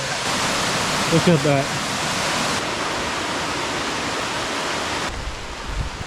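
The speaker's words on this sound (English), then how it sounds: "That's a huge waterfall." A huge waterfall at least 20 feet high, plunging straight down in a rainy forest, roars loud and unbroken, close by, while a person briefly speaks over it.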